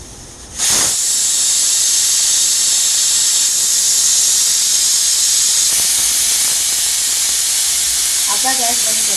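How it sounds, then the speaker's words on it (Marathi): A pressure cooker on a gas stove, cooking drumstick soup with onion, carrot, tomato, ginger, garlic and water, lets out a loud, steady hiss of escaping steam that starts abruptly and carries on unbroken, with faint tonal wavers near the end. "आता ह्याला 3 शिट्ट्या करून घेतो."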